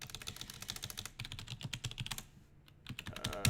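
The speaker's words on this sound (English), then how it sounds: "Keyboard." Rapid typing on a computer keyboard, a quiet close run of light key clicks with brief pauses and a short gap near the end before the keys resume.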